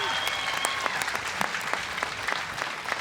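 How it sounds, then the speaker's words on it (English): Crowd applause ripples through a pickleball match at the 2023 US Open championships, a steady patter of clapping with scattered sharper claps, fairly near and continuous for the whole stretch. "Already got some early applause from the crowd"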